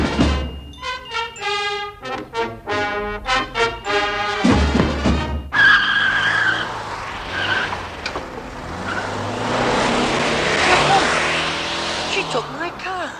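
A car speeding away with tires screeching, a long harsh squeal of rubber over engine roar following a rising tonal passage, loud and close, then fading into a wash of noise.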